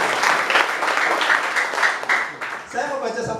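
Audience applause, a dense patter of clapping that swells and continues for a few seconds before fading into quieter room sound.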